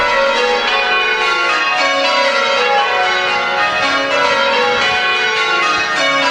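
Church bells chiming during a Christmas drama, a dense, steady wash of ringing bell tones sounding loud and continuous throughout, with no voices.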